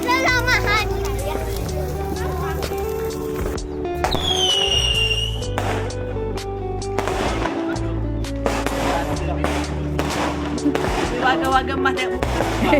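Fireworks set off on the night before Hari Raya, a busy run of pops, bangs and crackles with a rising whistle partway through, mixed with children's voices and chatter throughout.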